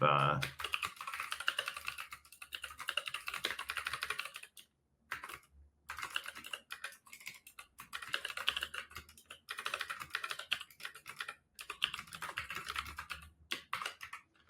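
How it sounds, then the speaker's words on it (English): Computer keyboard typing, rapid close clattering keystrokes in dense bursts separated by short pauses, continuing steadily for the whole stretch. "If you want to type"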